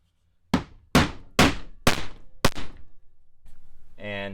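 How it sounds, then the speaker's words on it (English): Mallet blows drive spiked fasteners into a homemade ultra short throw projector mount, five sharp hammer strikes at a steady rhythm, close and loud, followed by a brief tonal hum. "And you hammer that in, those spikes engage"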